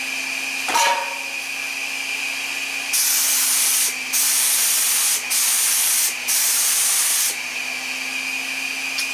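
A Fuji Q5 Platinum HVLP spray gun laying car paint, a steady loud airy hiss in several long bursts with brief gaps between triggers, over a faint constant background hum; no talking.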